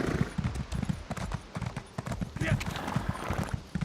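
Horse hooves clip-clop in a video game, a steady rhythmic series of close clops at a walking pace, with a person talking over them.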